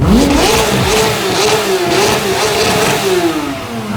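Car engine with an Akrapovic exhaust revving loudly and close, the pitch climbing and wavering through repeated throttle blips before easing off.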